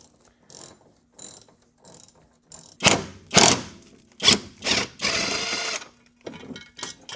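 A ratchet wrench undoing rear subframe bolts on a BMW E91, with quick clicking bursts and louder zipping ratchet runs in an irregular rhythm, close up, separated by short pauses and faint rustling.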